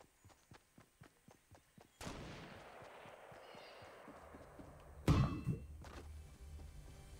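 Gunfire in the video game Fortnite: a string of about eight short, evenly spaced thumps, then a sustained burst of dense noise and a louder sharp crack-like blast near the end, moderately distant.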